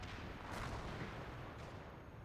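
4.2-inch mortar fire in a realism war video game match, a dense continuous rumble of distant booming artillery with no clear separate blasts, fairly quiet overall.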